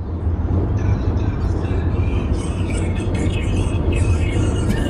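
Val and the boys riding in a car on the drive out to a rowing meet, with a steady, loud low road and engine rumble and hiss filling the whole stretch, no talking.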